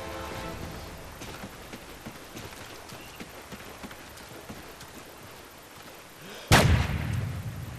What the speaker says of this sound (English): Sniper, I'll take that. Let's have a go at sniping.